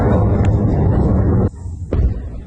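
An early-morning explosion in occupied territory gives a loud, deep, rumbling roar that breaks off abruptly, followed by a shorter second burst of rumble.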